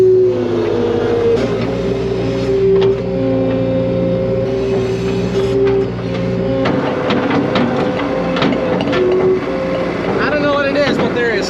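Skid steer loader moving hay bales, its engine droning steadily and loudly throughout with shifting tones, hydraulic whine and clanks as the machine works.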